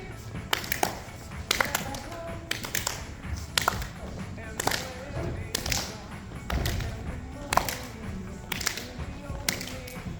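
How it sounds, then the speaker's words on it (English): Hands clap over and over in a senior fitness exercise class, sharp claps landing about once a second on a steady beat, while an instructor talks over music. "Nice big clap in the front."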